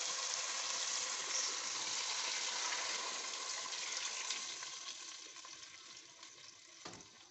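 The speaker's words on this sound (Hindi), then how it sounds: "और अब हम इसमें ये यखनी डालेंगे।" Yakhni stock is poured into cooked, sizzling masala for chicken pulao, making a steady, close gushing and frying hiss that slowly fades, ending with a brief clatter.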